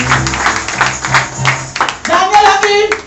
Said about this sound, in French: applaudissez alors